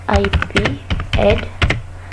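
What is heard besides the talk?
typing router commands on a computer keyboard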